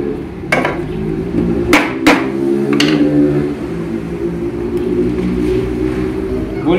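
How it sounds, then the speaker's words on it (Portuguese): A rubber mallet strikes several times in the middle of work on a motorhome build, giving a few sharp knocks at an uneven pace over a steady engine-like hum and background noise. "o martelo de borracha"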